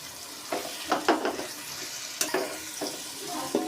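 A cup of yogurt is stirred into sizzling masala for egg biryani, a short close burst of frying crackle punctuated by several sharp spoon scrapes against the pan, with no talking.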